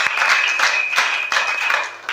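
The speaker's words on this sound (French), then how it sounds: "Est-ce que vous pouvez dire que papa on va applaudir pour la salutation de papa?" Audience applause at an evening church service, a dense, steady patter of clapping that swells in several waves and tapers slightly near the end, close and fairly loud.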